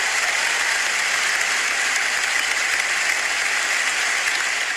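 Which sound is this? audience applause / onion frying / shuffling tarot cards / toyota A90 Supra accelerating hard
audience applause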